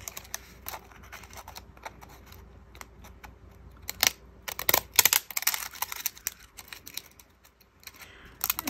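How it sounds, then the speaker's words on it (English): Sharp, irregular snips and clicks of decorative edge scissors cutting paper scraps, close up, with a few louder crisp cuts in the middle and quiet pauses between. "And I used my decorative edge scissors."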